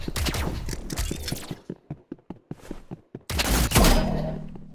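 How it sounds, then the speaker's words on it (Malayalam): Rapid bursts of exo gun gunfire in the Roblox game Rivals, a dense volley of shots, then a run of separate sharp single shots, then another loud sustained burst with a lingering tone. "നമുക്ക് അവനെ എക്സോ ഗൺ കൊണ്ട് കിൽ ചെയ്യാം."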